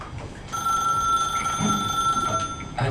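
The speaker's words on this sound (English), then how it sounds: "For the final time, a phone begins to ring." A telephone bell rings steadily and fairly loudly for most of the stretch, starting after a brief quiet lead-in, with a continuous trilling tone and faint room noise underneath.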